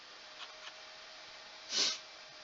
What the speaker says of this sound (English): apologies for the sniffling